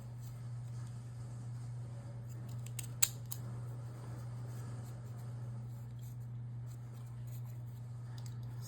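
Scissors cutting craft material for an artist trading card, a few faint snips and one crisp close click over a steady low hum.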